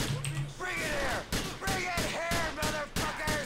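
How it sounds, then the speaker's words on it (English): Shotgun blasts in a video game firefight, several loud booming shots in quick succession, roughly every half second, layered with game noise and voices. "Another shotgun."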